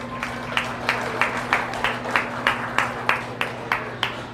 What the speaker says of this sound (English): Let's give them all a nice hand of applause.